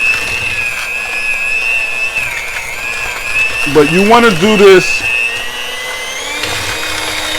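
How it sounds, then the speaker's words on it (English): An electric hand beater creams butter and sugar for a lemon cake, whirring steadily at a low setting throughout while a person talks over it close by. "and my hand beater"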